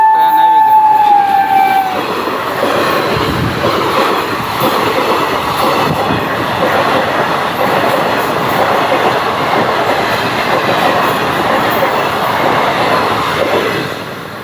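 A train arrives and passes along a railway track with a horn sounding near the start, followed by a loud, steady rumble and wheel clatter that continues throughout.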